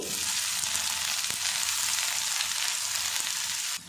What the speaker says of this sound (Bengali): কপিটা ভাজা ভাজা করে নেব